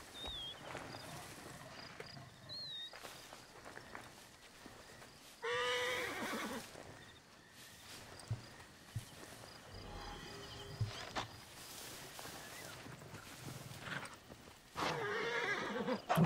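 Horses whinny and neigh in the video game Assassin's Creed Origins, several loud calls standing out over hoof clopping, insect chirps and other game ambience.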